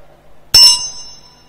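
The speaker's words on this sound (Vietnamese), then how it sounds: "thức tức là chạm cái dùi vào cái tiếng khánh, vào cái chuông, cho nó có tiếng nhưng không cho nó ngân lên" A single mallet stroke on a Buddhist ritual bell (khánh), damped so it does not ring on: a loud, close metallic clang that dies away within about a second, with no voices.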